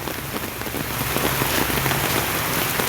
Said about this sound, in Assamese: গুৱাহাটীত বৰষুণ পৰিছে আজি।